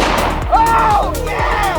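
Pistols fired at a dartboard in a shooting game, three or so dull, fairly distant reports spaced under loud, excited voices.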